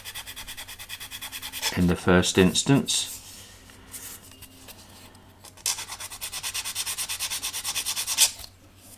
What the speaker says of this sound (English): I'm going to do that with a 220 sanding stick